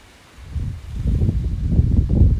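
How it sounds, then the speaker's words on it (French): Strong southwest wind gusts of 40 to 50 km/h buffet the microphone outdoors, a low rumbling roar that swells after a quiet start and keeps surging unevenly. No voices. "Regardez-moi ces rafales du sud-ouest."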